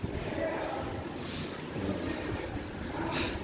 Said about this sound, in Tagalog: Sobrang lakas ang hangin